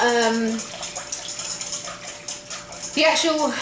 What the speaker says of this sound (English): I have everything in the bowl, and I'm just giving it a quick whisk